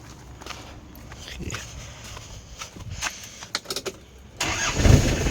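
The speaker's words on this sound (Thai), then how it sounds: "เครื่องก็ยังทำงานดีอยู่ มาเดี๋ยวเรามาเช็คเครื่องกัน" After some handling noises and footsteps, an Isuzu TFR four-door pickup with a 90 HP diesel engine starts up and runs with a loud, rough idle, close by.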